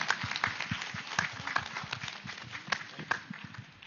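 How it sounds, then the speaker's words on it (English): Scattered, uneven clapping from an audience at a meditation summit in India. The claps are fairly faint and irregular, with some murmuring voices underneath. "let us all applaud for ourselves"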